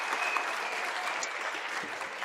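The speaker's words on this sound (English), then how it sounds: "A round of applause for our Honorable Thandi Modise." Audience applause at a Women's Day commemoration seminar, honoring a speaker on the panel: steady, dense clapping from a full room that holds an even level for the whole stretch, with no talking over it.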